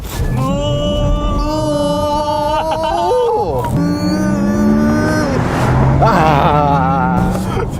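Porsche Taycan Turbo S electric car driving hard, its rising and falling electric motor whine sweeping in pitch over road and tyre roar, with voices reacting.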